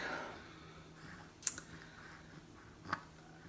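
A computer keyboard being typed on in a quiet room, with a few faint keystrokes and two sharper isolated clicks over soft background hiss.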